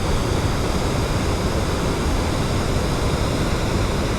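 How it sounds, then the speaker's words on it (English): Water rushes continuously over a dam's emergency spillway, a steady broad roar with no breaks and no voices. "and the water flowing over the top of the emergency spillway here"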